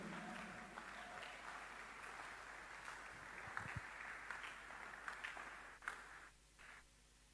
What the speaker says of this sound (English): Clap before I continue.